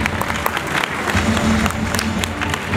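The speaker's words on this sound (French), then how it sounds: "Vous pouvez les applaudir parce que c'est pas simple." Audience at a nighttime agricultural show in Franche-Comté applauding the participants, a loud wash of crowd clapping with scattered sharper claps, over a steady low background hum and faint crowd murmur.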